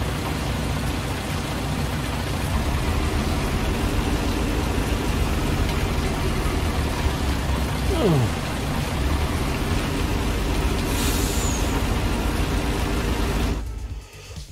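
Farming video game rain set in Thüringen, a constant broadband hiss running nearly the whole time, with a brief sliding tone near the middle and a short burst later before the sound drops away at the end.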